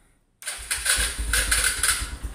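A manual-clutch motorcycle fires up through its starter relay after a short silence, then runs loud and close with a rough, pulsing idle.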